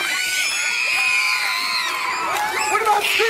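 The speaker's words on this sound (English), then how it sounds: "Oh, I like the screams over here." At a live TV sitcom taping, a studio audience keeps up a continuous wave of loud, shrill screaming, whooping and cheering, with excited individual voices rising above the crowd.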